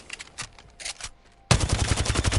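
A gun in Apex Legends fires full-auto with heavy recoil. A rapid, loud stream of shots bursts in after a short stretch of quieter clicks and handling sounds.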